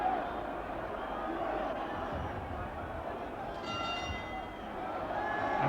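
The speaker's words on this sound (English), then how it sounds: "And there's the bell ending the 11th round." A boxing bell rings out briefly to end the 11th round of a South African flyweight title fight at the Orient Theatre, its bright tones cutting through steady crowd noise while a commentator talks.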